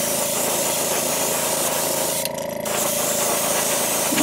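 An airbrush sprays a Createx opaque white base coat onto a lure in a steady, continuous close hiss with a brief dip partway through, alone with no talking.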